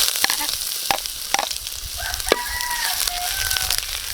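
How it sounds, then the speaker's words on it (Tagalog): Sliced ginger sizzling steadily in hot oil in a pan for pork kinamas, a continuous close crackle with a few light stirring scrapes and no talk. "Uumpisaan ko lang po sa luya."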